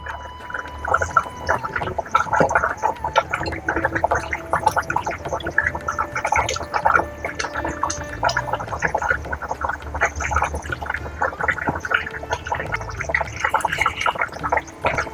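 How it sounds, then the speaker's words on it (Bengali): Duck egg curry with green chillies and fried eggs bubbling steadily in an uncovered pan, a dense continuous gurgle of simmering sauce with small pops throughout, close and moderately loud. "ফুটে গেছে সব, খানিকক্ষণ ফুটিয়ে নিয়েছি।"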